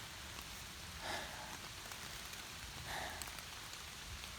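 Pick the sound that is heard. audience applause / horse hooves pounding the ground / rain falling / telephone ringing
rain falling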